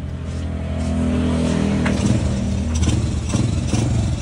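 A motorcycle engine revving hard, a loud, continuous droning roar with rising and falling pitch and some mechanical clatter, sustained throughout with no speech over it.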